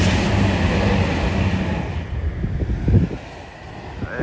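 A British Rail Class 222 diesel multiple unit passes outdoors, a steady broadband rumble with wind buffeting the microphone, easing slightly toward the end with a few clunks.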